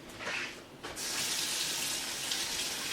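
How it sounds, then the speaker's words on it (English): Water running steadily from a kitchen tap into a sink while hands are washed, a broad hissing gush that starts after a brief softer splash and then holds loud and close. "let me wash my hands"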